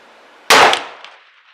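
A Remington 700 ML muzzleloader rifle loaded with White Hot 100 grain pellets and a Barnes bullet fires a single sharp, loud shot, followed by a short fading echo.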